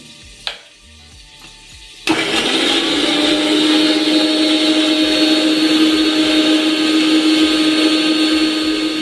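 After a short quiet stretch with a light knock, a mixer grinder switches on and grinds garlic and green chili in a loud, steady whirring drone that holds unbroken to the end.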